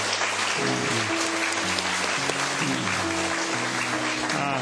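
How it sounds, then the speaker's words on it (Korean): A church congregation applauds in blessing during a Sunday worship service, continuous clapping filling the hall over sustained background music. "자리에서 한번 일어나시 우리 축복의 박수를 보내드릴까요?"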